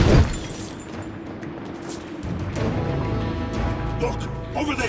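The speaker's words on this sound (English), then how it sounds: "Not unless we smash these crystals." Crystals smashed in the Dungeon Siege 3 video game: a sharp glassy shatter bursts at the very start, then fades into a dense bed of game music and effects, with a voice talking over it.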